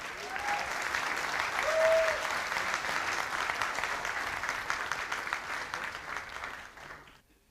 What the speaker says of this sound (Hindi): जोरदार तालियां हो जाएं।